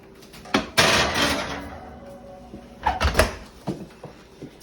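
Oven door in a home kitchen opening and closing, a couple of sharp knocks and a brief clattering rush followed by a second thud and lighter clicks.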